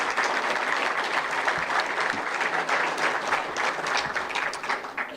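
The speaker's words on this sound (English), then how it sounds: "Would you give all of our student athletes a round of applause?" A crowd applauds student athletes at a press conference introducing a men's basketball coach, with dense, steady clapping that holds at full strength for about five seconds before easing slightly at the end.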